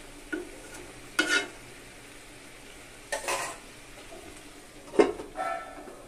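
A spatula scrapes and stirs fried potatoes into chicken cooking in a pan, four short scraping bursts over a soft, steady sizzle, with no talking.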